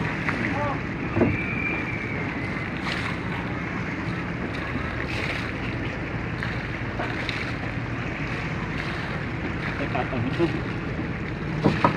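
A large motor boat with a V10 engine runs at speed over choppy water, a loud continuous engine drone mixed with wind and splashing, with people talking faintly underneath.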